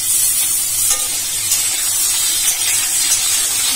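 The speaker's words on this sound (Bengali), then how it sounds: "এখন কি ভাজছো আলু" Potatoes frying in a pan give a steady, close sizzle with a constant hiss that runs unbroken from start to finish, without any talk.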